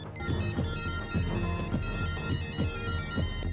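A telephone ringtone rings continuously as a loud, repeating melodic tune with a steady rhythmic pattern, filling the clip with no talk over it.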